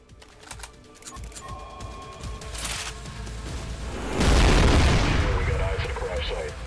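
Trepang2 gunfire starts as sharp, clicky shots over background noise, then swells into a loud, sustained roar of rapid automatic fire that dominates the second half.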